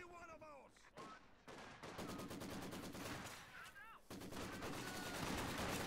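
A Vickers machine gun in a video game fires long, rapid, evenly spaced bursts, loud and close, with brief pauses between volleys while a commentator talks over it.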